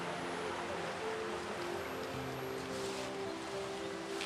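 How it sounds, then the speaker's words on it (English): Becker Brook runs in a steady, broad rush of flowing water on an autumn walk at Houndtor, close and continuous over a low hum of wind. "we still have the Becker Brook with us, although we can't see that much"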